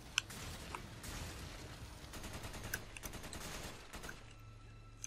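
Faint, quick gunfire in a Resident Evil 5 co-op fight, a sharp opening shot followed by clusters of rapid shots at a distance, then a brief lull with a last crack.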